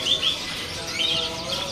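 Canaries at a bird-market kiosk chirp in short, bright, high trills, a few quick bursts close by over a low murmur of market background, with no talk over them.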